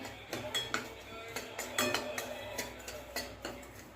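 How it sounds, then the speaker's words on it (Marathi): Semolina roasts in ghee as a spoon stirs it in a pan, giving soft repeated scraping and light metallic clinks at an irregular pace, quiet and close. "एक चमचा साजूक तूप घालूया रव्यामध्ये आणि छानपैकी भाजून घेऊया"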